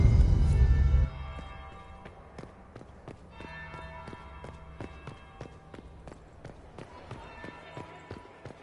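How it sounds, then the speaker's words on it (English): In a video game, a deep bell tolls once loudly, then its long resonant decay rings on beneath a scatter of lighter metallic clanks and taps. "That would be the second bell."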